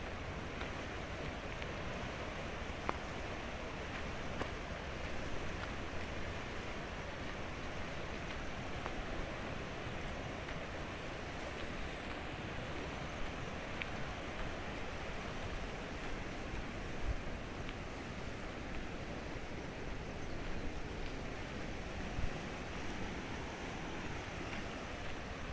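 The Aga river running high and flooded after a landslide, a broad continuous rushing roar of water, steady throughout with some wind buffeting the microphone.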